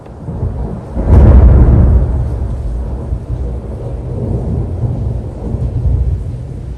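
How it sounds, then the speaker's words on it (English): A thunderstorm in Santa Fe, New Mexico, where a loud thunderclap cracks and then rolls into a long, deep rumble that fades under a steady wash of rain. "And then here's a storm."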